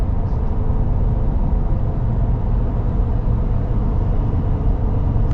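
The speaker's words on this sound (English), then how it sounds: "you're gonna get more noise from those mud terrains" Steady broadband road roar from mud terrain tires on a Shelby Super Baja diesel truck cruising the interstate, a constant low rumble filling the cabin with no talking.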